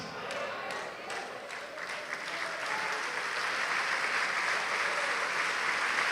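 Church congregation clapping together during a deliverance prayer service, a steady, dense applause that builds and holds at full strength throughout, with a few sharper claps standing out early on.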